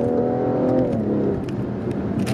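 A tuned 2018 BMW F22 M240i engine revs while driving, a clear rising then settling drone heard from the cabin, loud and without talk.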